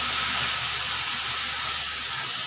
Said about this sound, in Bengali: এবার এটা একটু ভেজে নেব